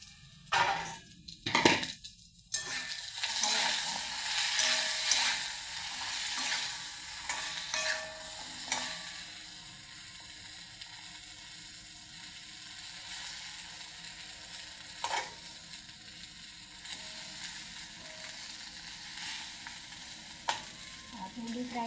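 Okra (bhindi) frying in a pan, with several clattering stirs and utensil clinks at first, then a continuous quiet sizzle broken by occasional scrapes.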